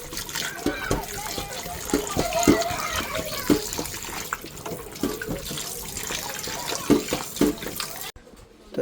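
Raw chicken lollipops are rinsed by hand in water, giving a steady splashing and trickling wash with repeated sloshes throughout, briefly cutting off near the end.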